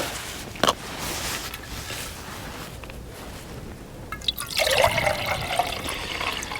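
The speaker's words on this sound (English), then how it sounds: "I'll pour the water in the stove this time, and then I'll light the stove." Water pours into a pot on a camping stove during a winter wild camp, a steady trickle and splash building louder toward the end, close with faint outdoor background noise.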